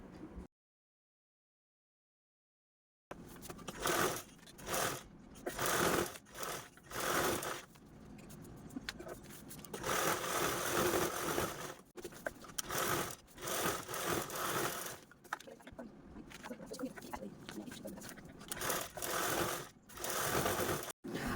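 Sewing machine stitching layered blouse fabric with its lining pinned in place, a steady mechanical whirring in bursts of varying length separated by short pauses, close and clear after a silent opening with no talk.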